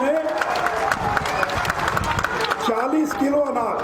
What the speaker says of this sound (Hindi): अरे एक बार तो नरेंद्र मोदी के नाम पर जोर से ताली बजा दीजिए